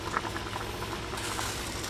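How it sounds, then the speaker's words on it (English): Brussels sprouts boiling in a pot on a stove give off a faint, steady bubbling and simmering patter with no talk over it. "the Brussels sprouts are boiling."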